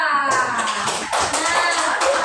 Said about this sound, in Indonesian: Di Al-Quran, tepuk tangan buat Seva.